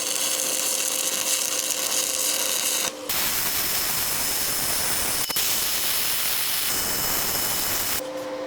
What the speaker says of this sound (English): It's still going strong, still burning welding rod.